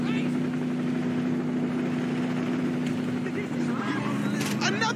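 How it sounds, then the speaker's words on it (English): A helicopter approaches in Saints Row 2, a steady rotor and engine drone running under a constant hum throughout, with players talking over it and brief game noises near the end. "Another chopper is coming!"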